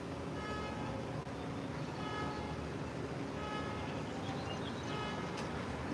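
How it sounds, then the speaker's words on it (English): Street honking at an outdoor graduation gathering: car horns sound in a continuous din of toots and blasts from nearby traffic, with crowd noise running underneath. "that guy just honking the horn"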